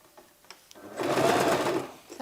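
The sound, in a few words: sewing machine stitching a girl's dress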